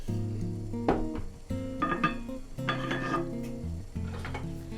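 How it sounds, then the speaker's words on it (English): A spoon scrapes and clinks against a pot while stirring millet into boiling water, in uneven bursts with a faint bubbling underneath. "Now I'm just gonna mix this in."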